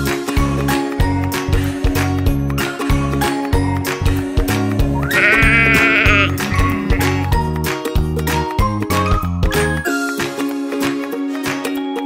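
A sheep bleats in the middle of a cheerful children's music track, its wavering cry standing out clearly over bouncy keys and light jingling percussion.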